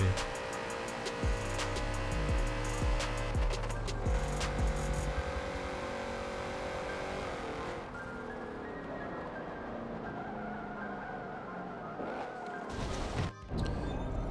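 A race car slams into a tire barrier in Forza Motorsport 7, with a loud crash and scraping impacts early on over steady engine hum, then a lower continuous drone as the car rolls on, with a brief sharp hit near the end.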